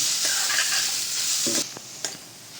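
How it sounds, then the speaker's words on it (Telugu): Grated coconut sizzles as it fries in ghee over a low flame for ravva laddu, with steady stirring and a few scrapes of the spatula against the pan, close and continuous. "ఇదిగోండి కొబ్బరిలో ఆ తేమ పోయే వరకు వేయించండి సిమ్లో పెట్టుకొని వేయించండి"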